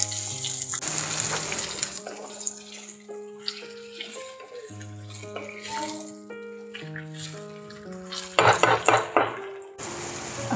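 Tomatoes are stirred into a cooking pot for a garlicky lasaniya olo, with a spoon clattering and scraping against the pot in short bursts under background music.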